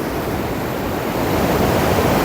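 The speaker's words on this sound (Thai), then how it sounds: "นี่นะครับคลื่นเริ่มแรงนะครับ" Strong sea waves surge onto a beach in Phuket, Thailand, a loud, continuous broadband roar of surf building slightly toward the end, with no voices.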